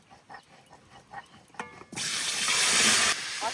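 Cauliflower drops into hot oil left over from frying rohu fish in a village kitchen, a few soft clicks followed by a sudden loud hissing sizzle that holds steady, then eases slightly at the end.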